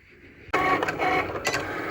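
A Cricut cutting machine starts up loading a mat, switching abruptly from quiet to a steady whirring motor hum with brief mechanical clicks and surges, close by.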